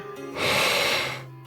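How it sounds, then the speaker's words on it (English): Karja, a sleeping character in the video game Ys X: Nordics, takes one slow, close breath that swells and fades over a moment, with a soft snorting rasp and a faint background hum. "Sound of Karja's steady breathing fills the air."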